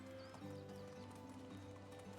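Horse hooves clip-clop steadily in the Medieval Dynasty video game, with a faint whinny over a constant low background hum and soft game music.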